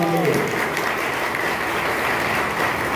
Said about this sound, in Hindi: एक बार जोरदार ताली में चाहूंगा